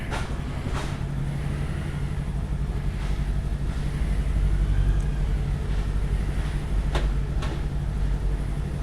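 A shuttle train rolling along with a steady low rumble and rattle, with occasional brief clanks and squeaks from the carriages.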